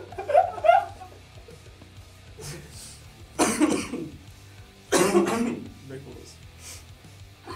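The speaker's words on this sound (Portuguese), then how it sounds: "Que tosse." Harsh coughs come close and loud in two separate bursts, each a cluster of rough hacks. A brief vocal sound is heard near the start, and a low hum runs underneath.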